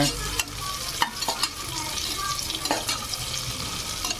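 Chopped onions sauté in hot oil with cinnamon, clove, cardamom and fennel for one-pot tomato rice, a steady close sizzle broken by several scraping stirs and spatters.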